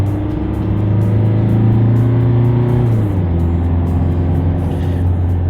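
Isuzu D-Max N60 Nitro Sport pickup with a 1.9 engine of 163 horsepower, a loud steady engine drone that holds a low pitch, dips slightly midway, then settles, heard up close without talk.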